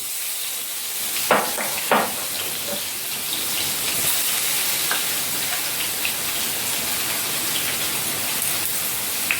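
Eight to ten garlic cloves crackle and sizzle in hot oil, a dense, steady frying hiss with a few sharp pops near the start as they hit the pan.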